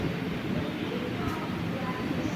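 A passenger train from Thiruvananthapuram to Kollam runs with a steady low rumble and rolling hum heard from inside the carriage, constant throughout.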